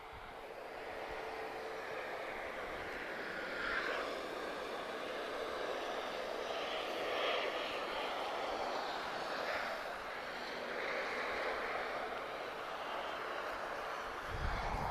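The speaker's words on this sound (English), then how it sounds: "She is an A320-214. Nice touchdown there." An EasyJet Airbus A320-214 in a special livery touches down at Lisbon Airport, its broad engine roar and rushing wind holding steady and fairly loud throughout, with no voices over it.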